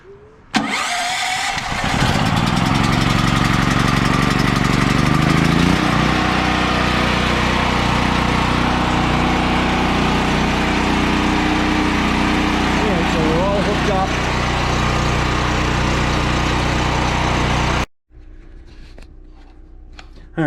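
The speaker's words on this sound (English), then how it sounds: "And now we'll start the generator." A portable generator's small engine catches after a pull start with choke applied, then settles into a loud, steady running drone close by for most of the time before cutting out near the end, with brief talk over it.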